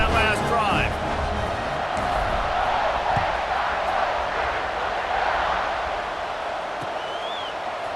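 Stadium crowd in College Football 26 roars steadily before a kickoff, a broad sustained cheer with scattered whoops, while a commentator talks over the start.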